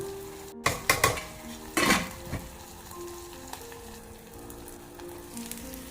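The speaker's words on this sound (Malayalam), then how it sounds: "സവാളക്ക് നല്ല കുക്കായി വരുന്നുണ്ട്" Onions frying in a pan for seer fish biryani give off a steady, close sizzle. A few sharp metal clanks of the pan and utensils sound early on, and no one speaks.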